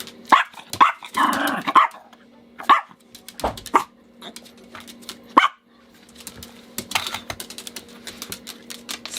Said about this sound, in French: Tu vas te faire gronder par maman si tu continues à aboyer comme ça.